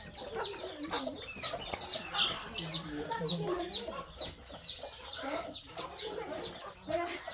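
A flock of farmyard chickens clucks steadily and close by, in overlapping busy calls, while people talk in the background.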